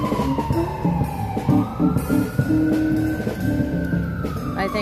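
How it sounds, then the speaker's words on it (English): Ambulance siren passing on a New York City street, its wail rising then sweeping steadily down in pitch as it goes by, loud and continuous over busy traffic rumble, with faint talk in the background. "I think that's my ambulance."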